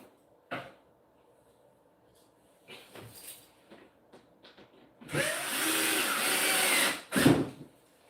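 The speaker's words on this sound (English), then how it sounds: "but first we're gonna drill" A power drill whirs for about two seconds, loud and close, drilling into an IKEA Billy bookcase, preceded by a few knocks and handling clatter.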